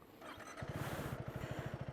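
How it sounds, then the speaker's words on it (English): A 2025 KTM 390 Adventure single-cylinder motorcycle engine cranks briefly, then fires and settles into a steady, rapid thumping idle, close and fairly loud with no talking. "I'm going to first fire up the engine."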